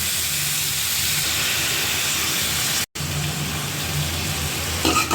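Chopped green beans tossed into a hot pan with fried onions, giving a steady broadband sizzle and hiss that holds evenly, broken by one brief dropout midway.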